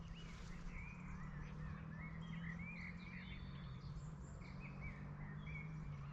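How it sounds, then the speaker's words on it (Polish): Birds sing in open fields on an evening, with several chirping, warbling calls repeating over a steady low background hum, faint and distant, with no voices. "Ptaki pięknie śpiewają."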